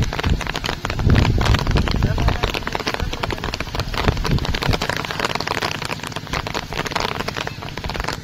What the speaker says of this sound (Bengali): প্রচন্ড বৃষ্টি নেমেছে এই মুহূর্তে, মুষলধারে বৃষ্টি নেমেছে।